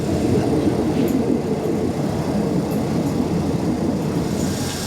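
A steady low rumble and rattle fill the inside of a moving third-class train carriage in Thailand, travelling toward the River Kwai, with faint clicks and squeaks over the continuous drone.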